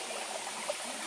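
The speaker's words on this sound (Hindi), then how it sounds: "यहीं से मुझे झरना का आवाज़ भी आ रहा है" Water from a waterfall near a dam flows in a soft, steady rushing hiss, faint and distant with no voices.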